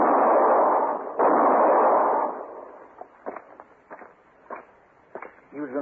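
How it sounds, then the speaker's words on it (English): Gunshot effects in an old-time radio western drama, a couple of heavy booming blasts up front, followed by sharper scattered cracks and small knocks, all fairly close and with no talk over them. "He was going to shoot Mr. Hinkle."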